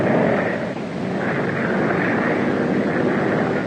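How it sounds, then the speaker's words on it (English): A propeller aeroplane drones steadily overhead on a night in New York City, a broad rumbling engine roar holding loud and even with a slight swell, no voices over it. "I can see him coming now, Mr. McAllen's aeroplane"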